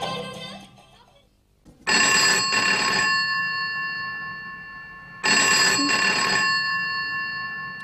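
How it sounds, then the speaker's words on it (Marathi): A telephone rings on stage in a Marathi comedy drama: two loud, bright bursts of electronic ringing, each lasting about a second, separated by a few seconds of fading tone. "अरे वाजत रे फोन वाजत राहिला ना"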